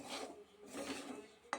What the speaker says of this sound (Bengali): সুজিটা দেওয়ার পরে কিন্তু ভালোভাবে নেড়ে নিতে হবে।